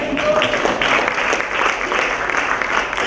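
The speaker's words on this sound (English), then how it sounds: "Let's clap for her." An audience at a talk claps for a woman in a steady burst of applause, with a few sharper individual claps rising out of the crowd and a faint voice briefly underneath.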